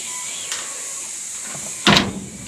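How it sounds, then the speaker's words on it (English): A lockable door on a chicken coop in a tropical setting bangs shut once near the end, a short sharp knock over a steady background hiss, with a faint tap just after. "So in here, this door is lockable"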